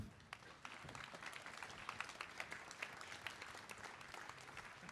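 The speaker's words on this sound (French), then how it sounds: "je vous demande de faire un tonnerre d'applaudissements pour Laura Mansouri" Applause from a seminar audience at a business club event in Dubai, a steady dense patter of many hands clapping throughout with no talking.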